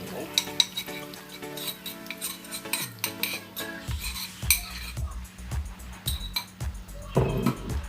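Dry fish curry with grated coconut is stirred in a pan, a utensil scraping and clinking against the metal in a steady, repeated rhythm, close and fairly quiet, with no talking.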